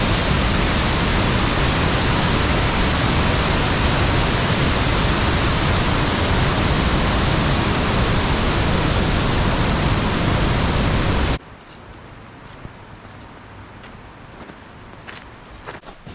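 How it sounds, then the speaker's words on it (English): A big waterfall roars with loud, steady broadband rushing for about eleven seconds, then cuts abruptly to quieter outdoor background with faint scattered knocks. "We kind of have two waterfalls here. We got a little guy behind me, and then we got this big monstrosity over here."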